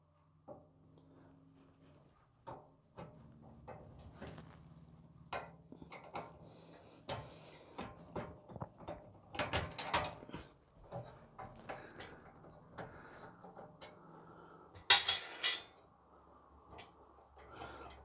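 Thumb screws and a metal bracket being removed from a Thermaltake Level 20 XT computer case, heard as scattered close clicks, taps and rattles, quiet between sharper knocks.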